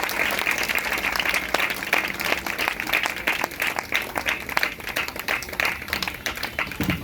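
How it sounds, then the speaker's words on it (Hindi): A church congregation at a New Year spiritual revival meeting claps continuously, a steady, fairly loud patter of many hands with distinct individual claps standing out throughout. "तालियां बजाओ परमेश्वर की महिमा के लिए"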